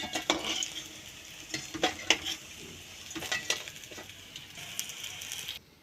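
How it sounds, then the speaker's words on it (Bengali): Rohu fish pieces fry in hot oil with a soft sizzle, broken by spatula stirring and metal scraping against the pan in irregular bursts, fairly quiet and close. "এইভাবেই সব মাছগুলো ভেজে নেব।"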